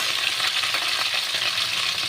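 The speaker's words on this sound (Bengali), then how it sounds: "আলু ফুলকপিটা ভাজা হোক" Potato and cauliflower pieces frying in a pan give off a loud, dense, continuous sizzle with no gaps and no voices.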